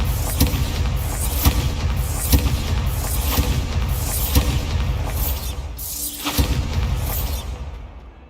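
Spell blasts and booms from the Bombarda explosion spell in Hogwarts Legacy, a string of repeated sharp bursts with crackling debris across several seconds, one more prominent impact near the end before it fades out.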